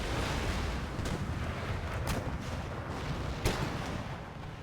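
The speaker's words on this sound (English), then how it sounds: "Cannon fire, we've knocked out one gun and a good amount, almost 10 of their regiment." Cannon fire in the strategy game Empire: Total War, a steady dull roar of distant artillery booms with a few sharper reports standing out above the continuous battlefield rumble.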